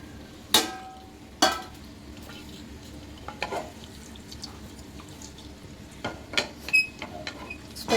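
Whole spices drop into hot cooking oil and ghee, giving a soft, low sizzle broken by a few sharp clinks of a spoon or pan as they are stirred.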